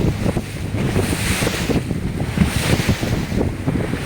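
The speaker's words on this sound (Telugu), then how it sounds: "చాలా పెద్ద అలలు వస్తూ ఉన్నాయి" A boat moves out on big ocean waves in the Bay of Bengal. Loud wind buffets the microphone over churning surf and rushing water, with constant rumbling and no voices.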